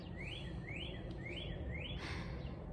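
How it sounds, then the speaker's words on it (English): Birds chirp outdoors in spring, a repeated rising tweet heard four times at an even pace over a steady low background hum, moderately distant and fairly faint. "listening to the birds"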